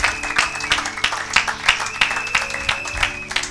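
A church congregation clapping in a steady rhythm, about three claps a second, loud and close, with a sustained musical tone underneath.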